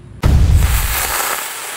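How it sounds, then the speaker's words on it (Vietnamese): A toy gun fires a smoke bullet that bursts into a cloud: one sharp, loud pop followed by a broad hissing rush of smoke that slowly fades, alone with no talk. "viên này là những viên đạn khói đây. Khi mà bắn ra nó sẽ vỡ viên đạn ra, nó bốc mù khói lên."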